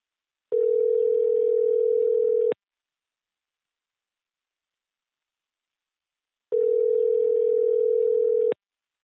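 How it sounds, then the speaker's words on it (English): Outgoing telephone call ringback tone: two long steady buzzing rings about two seconds each, separated by a four-second silent gap, clean and alone on the line. "we're calling now. Here we go. Here we go. And we are ringing."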